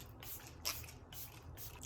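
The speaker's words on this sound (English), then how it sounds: "let me just finish off with the setting spray" A few quick bursts of makeup setting spray are pumped close to the mic, each a short soft hiss, with one sharper puff standing out among the quiet spritzes.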